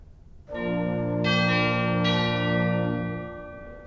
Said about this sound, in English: We also have a set of chimes down here.